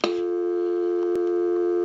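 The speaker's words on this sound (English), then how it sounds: "dial tone" Steady telephone dial tone from a Harris TS22A lineman's test set clipped onto a phone line, a continuous hum-like tone held loud and unchanging after a brief click at the start.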